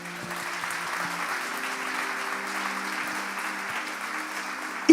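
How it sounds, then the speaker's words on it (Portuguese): A church congregation claps in praise, giving an even, continuous wash of applause with a sustained low musical tone held underneath. "Você pode dar um aplauso ao Senhor?"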